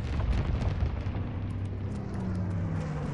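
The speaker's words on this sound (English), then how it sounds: "Altitude bomber inbound. Dropping incendiary." Incendiary bombs dropped by a high-altitude bomber in a World War II shooter game burst into a continuous deep rumbling roar, a sustained low explosive wash with faint crackling on top.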